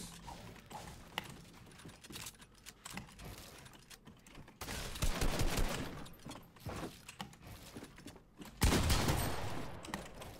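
Fortnite gunfire in a creative 1v1v1 box fight, with bursts of shots and mechanical building clatter, the loudest volleys near the middle and a strong burst close to the end.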